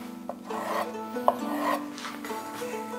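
A knife draws lengthwise through squid on a cutting board in a close, quiet rasping and scraping rhythm, with a small knock partway through and steady rubbing strokes.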